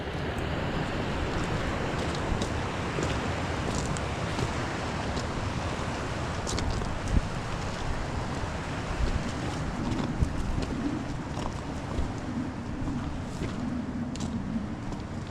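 Small waterfalls trickling down an embankment in a forest of Christmas trees form a steady, broadband rush of flowing water that holds constant throughout, with some wind buffeting the microphone.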